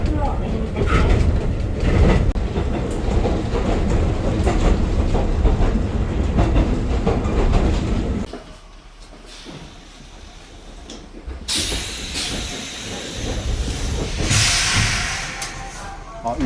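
Local train bound for Kuroishi running through snowy Aomori countryside, a steady rumbling clatter of wheels on rails that drops away midway, then picks back up with hiss and rattle.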